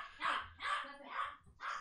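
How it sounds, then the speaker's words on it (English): Several dogs bark in a steady rhythm of about four loud bursts, fairly close, with a low hum running underneath. "We just got dogs barking."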